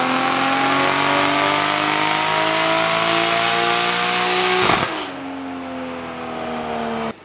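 Toyota 1JZ engine with a forged bottom end, stock head bolts, 272 cams and a GT3076 turbo, revving loud and close with rising harmonics, then dropping sharply and settling to a steady idle.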